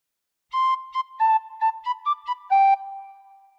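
Tin whistle playing the opening phrase of Pop Goes the Weasel, a short run of about a dozen clear, pure notes, some tongued and some held, ending on a longer sustained note, close and alone.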